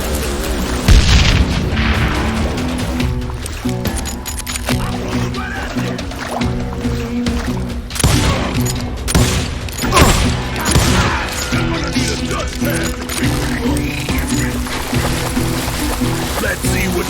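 Repeated booming gunshots fire in the Call of Juarez Gunslinger video game, loud and continuous under voices and background game sound.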